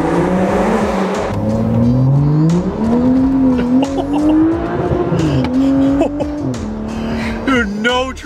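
A turbocharged BMW F30 335i making about 600 horsepower on methanol injection, on cold tires, accelerates hard as the rear slides out. Loud, close engine revs climb and fall through gear changes while tires squeal and people talk over it.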